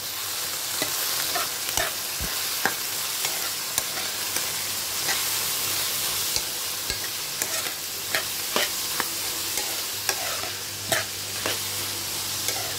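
Sweet corn is stirred into a curry in a pan. A steady frying hiss runs throughout, with repeated clicks and scrapes of a spoon against the pan at an irregular pace. There is no talking.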